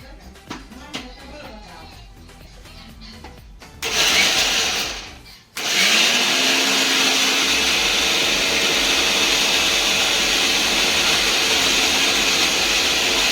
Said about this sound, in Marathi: आता मी वाटून घेणार आहे कांदा.